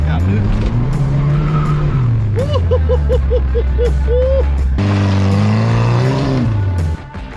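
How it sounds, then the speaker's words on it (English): Tires of a 1972 Ford Pinto with a 4-speed squeal loudly as they burn against the pavement, over a steady, strained engine roar, with a brief shift in pitch midway before the sound cuts off. "She'll burn the tire, but I don't want to burn the tire."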